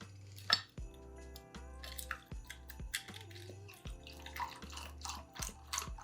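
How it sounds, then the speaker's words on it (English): Chai pours over ice in a glass, giving a series of quiet trickling splashes and drips broken by small clinks, close and intimate with no talking. "I'm going to pour the chai over ice."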